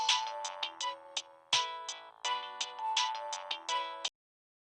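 A phone ringtone plays alone, a repeating bright melodic pattern of short chiming notes in quick bursts, fairly clear and close, stopping abruptly after about four seconds.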